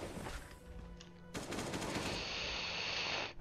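AK rifle gunfire in the survival game Last Day on Earth, a dense, loud stream of rapid automatic shots rattling continuously with no talk.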